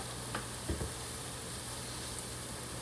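Panko breadcrumbs frying in pork fat and olive oil in a hot pan for a cassoulet topping, a steady, fairly quiet sizzle with a few soft clicks and stirring taps.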